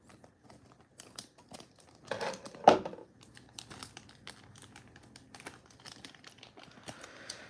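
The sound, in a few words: tearing and cutting open dinosaur figure packaging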